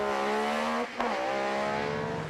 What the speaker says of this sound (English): Richard Talbot navigating in the Metro 6R4